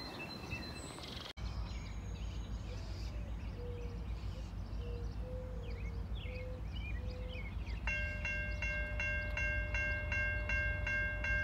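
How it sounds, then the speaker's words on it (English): A freight train rumbles steadily, growing closer at a railroad interchange with Norfolk Southern, then a sustained horn or whistle tone sounds loudly near the end, with some bird chirps in the background. "So the train's coming from that way."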